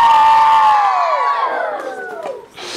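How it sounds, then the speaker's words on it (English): Schoolchildren cheer and shout together at a school event, a loud, high-pitched crowd roar that sweeps and fades over a few seconds, with a brief dip near the end before voices pick up again. "Let's have a big round of applause for Julia."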